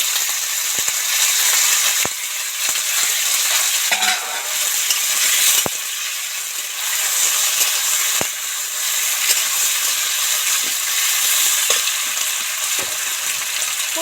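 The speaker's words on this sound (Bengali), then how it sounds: "পেঁয়াজ তো সব সাট করে ভাজা হয়ে গেছে এবার আলু টমেটোটার মধ্যে দিয়ে দেবো" Onions, potatoes and tomatoes fry and get stirred in a pan while cooking a cauliflower egg curry, giving a steady close sizzle with occasional scraping knocks of a spoon.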